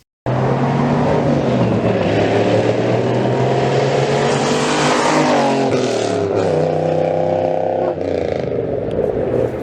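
A loud Chevrolet Camaro engine revs hard and climbs in pitch, holds a high whine, then drops back and rises again, close by.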